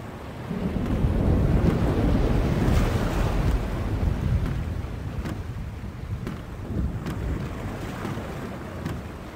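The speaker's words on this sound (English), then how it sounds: "The storm is closing in." Rumbling approaching storm in the adventure game The Longest Journey, with deep wind-like roar and thunderous low rumbles swelling loud early, then easing into a steady stormy wash with scattered crackling hits.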